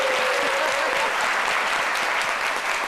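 A studio audience on a Côte d'Ivoire midday TV talk show applauds loudly and steadily, a dense continuous wash of clapping filling the room without pause.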